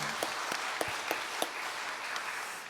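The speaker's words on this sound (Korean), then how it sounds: "우리 권사회 여름 내내 또 수고하실 텐데 격려의 박수를 한 번 더 보내줍니다" Church congregation applauding in encouragement during an early-morning prayer service, a continuous wash of clapping from many hands with a few sharper individual claps standing out.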